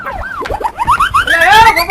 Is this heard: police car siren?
yes